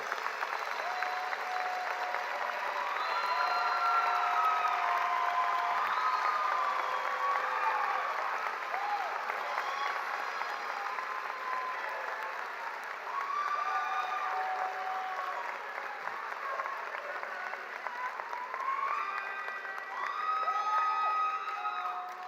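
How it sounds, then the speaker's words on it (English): Applause and cheering at a spring university medical center commencement ceremony: a long, sustained ovation from a large crowd with scattered whoops and shouts, heard from some distance in a big hall. "So let's give them a resounding round of applause for all that they do."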